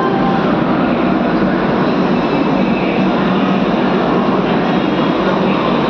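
A train rumbles at Bhubaneswar railway station, giving a loud, continuous, unbroken roar of wheels and carriages that fills the whole stretch with no clear voices on top.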